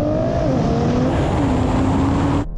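Porsche 911 Turbo, BMW M8 and Nissan GT-R in a drag race, a loud sustained engine roar with rising and shifting tones as the cars accelerate, cut off abruptly at the end.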